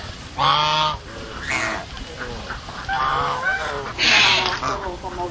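Geese honking loudly up close, several harsh nasal honks in bursts, with faint voices underneath during a duck-herding outing.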